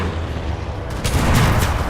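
Gunfire in the World War II shooter game Enlisted: a dense, continuous wash of shots and distant booms that swells louder in the second half, no voices.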